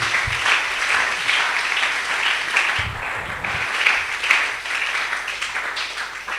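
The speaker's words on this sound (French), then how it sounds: "On acclame pour le Seigneur Jésus." A church crowd at a French-language worship gathering applauds for Jesus, with dense, sustained clapping and a few low thumps through the hall, and no speech over it.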